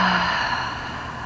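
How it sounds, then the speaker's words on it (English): A slow, steady breath exhaled out through the mouth during a gentle relaxing yoga session, a soft airy whoosh heard close up and fading gradually. "And exhale out through the mouth."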